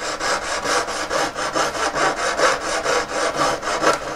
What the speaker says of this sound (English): A thin, sharp, efficient saw blade is what you need.